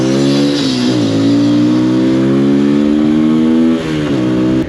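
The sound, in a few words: MGB ATX 125 adventure motorcycle being ridden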